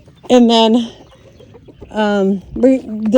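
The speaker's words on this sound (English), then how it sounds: "We have a chicken out, story of our lives." A loose chicken gives three loud, close clucking calls on a homestead with pigs, each a drawn-out squawk separated by short pauses.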